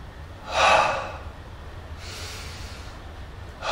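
Deep breath drawn in during a seated meditation class, one clear breathy inhale near the start with softer breaths following, close and quiet with no talking.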